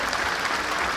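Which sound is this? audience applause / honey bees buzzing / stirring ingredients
audience applause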